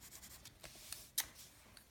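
A Black Widow colouring pencil scratches across paper in soft, irregular strokes, close and quiet, with a few sharper scrapes.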